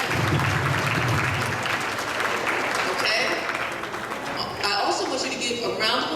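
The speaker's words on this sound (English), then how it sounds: "I want you to give yourselves a round of applause for a job well done" An audience applauds at a fifth grade graduation ceremony at West Philadelphia ACES, with steady crowd clapping throughout and cheers and voices rising over it in the second half.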